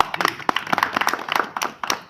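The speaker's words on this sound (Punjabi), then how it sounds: "ਇੱਥੇ ਤਾੜੀ ਮਾਰੋ ਇਸ ਗੱਲ ਤੇ" At a Punjabi lyricists' fair, the Mela Geetkaran Da, an audience claps in a short, uneven burst of sharp hand claps. The claps are close and fairly loud, with small gaps between them.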